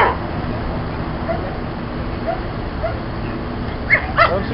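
A police dog gives a few short barks and yips near the end, fairly faint under steady crowd and outdoor noise at a law enforcement dog demonstration.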